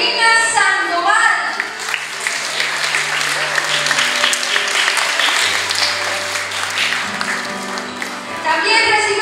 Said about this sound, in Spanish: Recibamos con un fuerte aplauso a Angelina Sandoval.